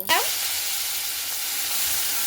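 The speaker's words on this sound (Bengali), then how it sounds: "চিংড়ি মাছটা হালকা করে ভেজে নিতে হবে।" Shrimp hit a hot pan with a sudden loud hiss that settles into a steady, even sizzle, close-up and with no other sound over it.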